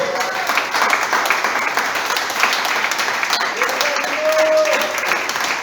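A church congregation applauds in sustained, lively clapping, with a voice briefly rising over the crowd noise partway through.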